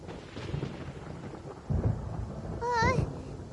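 A video game thunderstorm gives low rolling thunder over a hiss of rain, with rumbles swelling in waves and a short vocal sound near the end.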